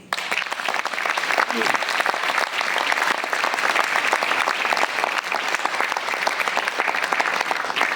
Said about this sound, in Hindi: आज इसलिए ताली बजाओ कि आप भारत देश में पैदा हुए।